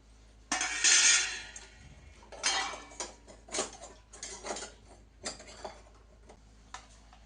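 A spoon and other utensils clink against metal lunch boxes while they are being filled: a loud clatter at first, then scattered, close taps and scrapes with short pauses between them.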